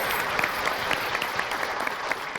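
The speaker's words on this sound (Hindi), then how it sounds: "एक बार इन बच्चों के लिए जोरदार तालियां बजाइए।" An audience claps loudly for children after a poetry competition, a thick, steady round of applause from a crowd with individual sharp claps popping through, continuous throughout.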